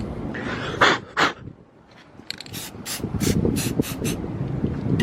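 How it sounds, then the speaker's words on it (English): A spray can is shaken and sprayed over patches of a vehicle, two short hissing bursts followed by a string of rapid spritzes over low rustling background noise. "Sorry, Dan, I'm spray painting some areas that need a little bit of attention."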